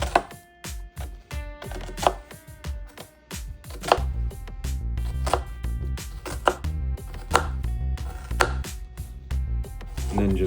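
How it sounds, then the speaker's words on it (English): A knife dices an onion on a cutting board in quick, crisp chops, a steady run of sharp taps close by with short pauses between passes. "And then just go in like this for nice little diced pieces"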